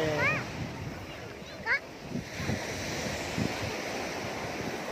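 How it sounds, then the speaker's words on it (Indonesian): Ocean waves surge and wash in a steady, broad roar on a busy beach with wind buffeting the microphone, while voices and a child's chatter sound faintly nearby. "inilah dia situasi pantai"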